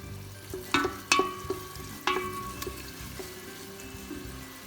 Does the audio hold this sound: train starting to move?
no